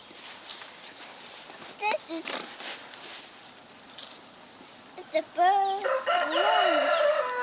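A rooster crows loudly near the end, with scattered clucks and shuffling footsteps earlier in the yard.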